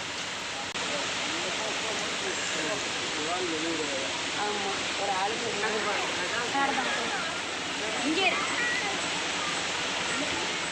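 Steady rushing roar of Palaruvi waterfalls in Kerala fills the background while voices talk over it.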